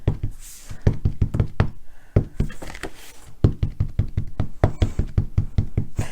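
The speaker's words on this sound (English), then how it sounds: "Now I'm going to stamp these." A rubber stamp is pressed repeatedly onto paper in a crafting session, making sharp close knocks in quick irregular bursts, with short pauses between runs.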